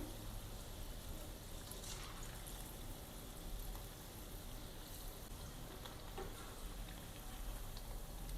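Dahi vada lentil fritters deep frying in oil, a faint, even sizzling hiss that runs steadily without pause and with no voices.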